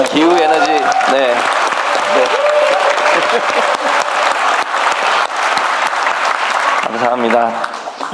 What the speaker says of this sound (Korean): 인사드리면 박수 좀 많이 좀 쳐주십시오